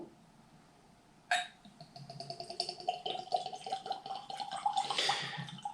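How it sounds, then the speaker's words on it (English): Ledaig Scotch whisky glugs from the bottle into a glass in a run of close, irregular liquid pulses lasting several seconds, starting with a sharp onset and staying fairly quiet. "I probably should have poured that along the edge of the glass, but I'm getting sloppy at this point in the evening, so it got glugged in there."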